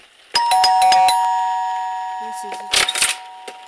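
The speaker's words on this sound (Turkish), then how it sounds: "Zil çaldı kapıya bakıyoruz." A bright electronic doorbell chime in a horror video game plays a quick melody of several tones, followed by a few short clicks and soft sounds as it fades.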